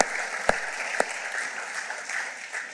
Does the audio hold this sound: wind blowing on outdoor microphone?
no